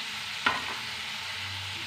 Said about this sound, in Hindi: तो प्याज के साथ साथ हम आलू को भी फ्राई कर लेंगे।